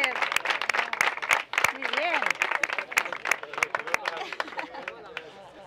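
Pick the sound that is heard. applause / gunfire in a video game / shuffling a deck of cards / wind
applause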